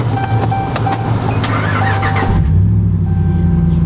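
Vehicle engine cranks and fires up at an outdoor estate consignment auction, a brief starter whir catching into a steady, loud idle rumble.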